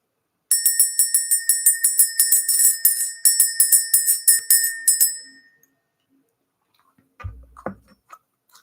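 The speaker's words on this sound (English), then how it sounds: "Let's ring this bell." A small bell rings in a quick, regular series of bright metallic strikes, loud and close, to clear energy. After a few seconds of silence, a faint shuffling or handling noise follows.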